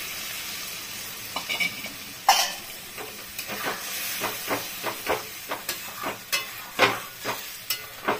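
Water splashed into frying masala for butter chicken gravy sets off a steady hiss and sizzle, punctuated by repeated bursts of bubbling and stirring, with no talking.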